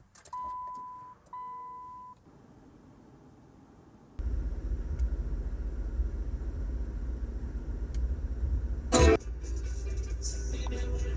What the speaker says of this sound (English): Start the vehicle and see.